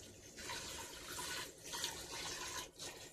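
Water pours steadily into palm jaggery in a kitchen, a soft, continuous trickle and splash with brief dips in flow, quiet and close.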